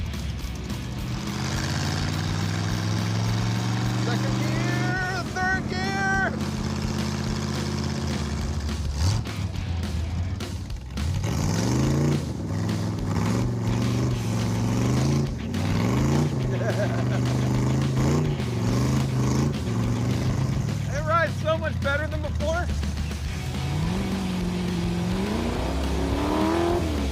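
A Vette Kart with no windshield accelerates hard on a desert run, its engine revving up loud and close through successive gear changes, each climb in pitch dropping at the shift, with a voice talking over it.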